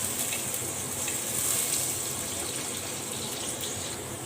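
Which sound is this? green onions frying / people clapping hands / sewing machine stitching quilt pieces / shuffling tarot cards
green onions frying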